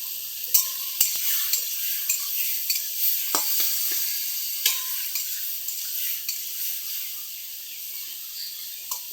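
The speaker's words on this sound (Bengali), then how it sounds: "এইভাবে নাড়তে নাড়তে হয়ে যাবে ওলের ডাঁটা রান্না।" Elephant foot yam stalks with turmeric fry in a pan, a steady sizzle punctuated by regular scraping and knocking stirs of a spoon, close and clear.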